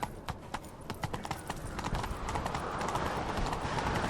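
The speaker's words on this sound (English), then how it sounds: "Grab a horse, we'll chase him down." A horse gallops in The Witcher 3 video game, rapid rhythmic hoofbeats pounding close and steady, starting with a few distinct strikes and building into a continuous run.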